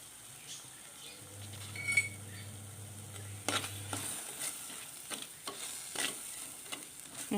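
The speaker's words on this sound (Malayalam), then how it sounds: "ഉള്ളിയെല്ലാം ഒന്ന് നന്നായിട്ട് വാടി വരണം" Onions for a squid dish sauté in a pan with a soft sizzle, while a spoon scrapes and clinks against the metal in irregular strokes, and a brief low hum runs partway through.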